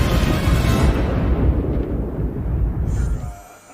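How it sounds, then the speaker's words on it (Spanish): A deep, heavy explosion in the torpedo room of the Kursk submarine, a sustained low rumbling roar that fills the first three seconds and then fades out. "Una explosión causa un incendio en la sala de torpedos del Kursk."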